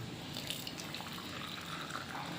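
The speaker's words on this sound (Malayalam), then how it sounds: "ഇനിയിപ്പോൾ ഈ നെസ്കഫേയുടെ കോഫി നമ്മൾ ഈ ഗ്ലാസ്സിലേക്ക് ഒഴിക്കണം" Faint, continuous trickle of hot, steaming Nescafé coffee being poured into a glass, a soft watery stream at low volume.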